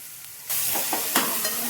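Peanuts frying in a pan over a medium gas flame, quiet at first, then a sudden burst of bright sizzling hiss with a few stirring knocks, no voices.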